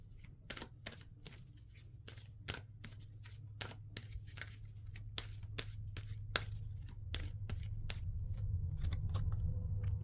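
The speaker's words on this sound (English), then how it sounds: "pull some oracle cards for you and go a little deeper into these messages" Oracle cards shuffled and drawn by hand, a run of crisp riffling snaps and soft slides repeating close up over a quiet room hum, with no talking.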